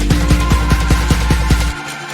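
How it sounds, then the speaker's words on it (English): A reversed future bass drop chord pulses in about eight quick, loud rhythmic swells of a thick synth chord, then cuts off abruptly into a faint low tail. "the first drop chord has been used as a reverse effects over here"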